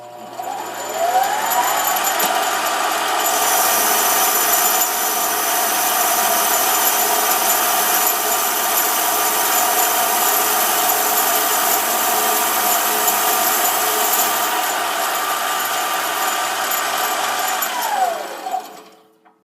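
A mini lathe takes a very light finishing cut on a small metal part, giving a steady whining mechanical drone with a high-pitched tone. It runs loud and unbroken for most of the span, then spins down near the end.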